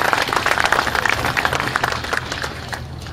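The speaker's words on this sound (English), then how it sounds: "So a big round of applause for the folks who keep us safe with our weapons." An audience at a Second Amendment celebration event applauds in a dense burst of clapping that fades over a few seconds.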